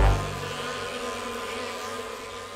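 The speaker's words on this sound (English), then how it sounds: "The bees are buzzing!" Bees buzzing in an animated children's show, a steady droning hum after a brief low thump at the start, close and continuous with no talk over it.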